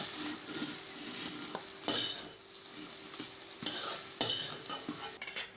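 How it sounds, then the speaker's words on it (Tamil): Soya chunks, meal maker, crackle in hot oil in a pan while a spoon scrapes and scoops them out, a soft sizzle broken by sharp metallic scrapes and clinks at irregular moments. "இப்போ மீன் மேக்கர்லாம் வறுத்து எடுத்தாச்சு."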